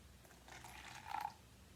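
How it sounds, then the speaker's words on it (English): Water poured into a cup holding a few tablespoons of liquid for a children's chemistry set activity, a soft brief trickle that rises to a short splash near the end, close and quiet with no talk. "So I'm going to pour it into my cup."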